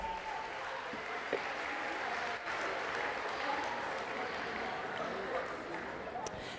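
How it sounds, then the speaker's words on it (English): Sustained audience applause at a school sports banquet, a dense, even patter of many hands clapping continuously at a steady level throughout. "Can we give them a big round of applause, please?"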